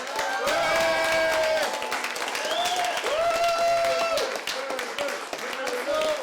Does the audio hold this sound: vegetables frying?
no